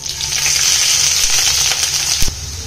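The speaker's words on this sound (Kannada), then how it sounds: "ಸ್ವಲ್ಪ ಈರುಳ್ಳಿ ಎಲ್ಲ ಫ್ರೈ ಮಾಡ್ತೀನಿ" Onions, green chillies and curry leaves frying in oil in a pan, a loud, close, steady sizzle with a brief clatter near the end.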